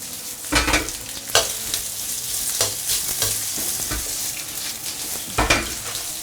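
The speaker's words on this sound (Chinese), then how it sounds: "爆香过就下入我们的豆腐干、香干" Dried tofu and pressed bean curd stir-fry in a very hot wok with ginger, garlic and scallion, loud crackling sizzle punctuated by several sharp scraping tosses of the spatula, close up.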